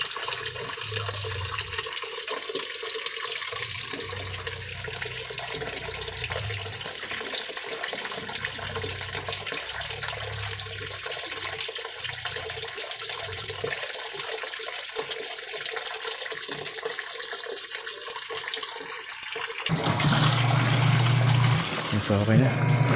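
An automatic washing machine, just repaired with a replacement controller board, fills with water in a steady loud gushing rush, with speech over it and a sudden change in the flow near the end.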